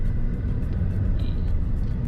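A car rolling through a small town centre, its steady low engine and road rumble continuous and fairly close throughout, with no talking.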